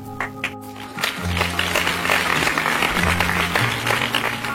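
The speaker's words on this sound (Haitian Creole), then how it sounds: "Sous vos applaudissements, s'il vous plaît." Sustained audience applause at a graduation ceremony, greeting the class vice-president before a speech; dense, even clapping continues throughout over a steady musical tone.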